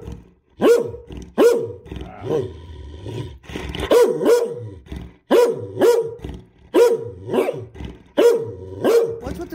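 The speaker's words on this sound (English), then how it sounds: "Yeah, he barks." A Great Dane barks indoors in a loud, deep series of about a dozen booming woofs, arriving in irregular pairs and short bursts, with brief pauses between them and no talking.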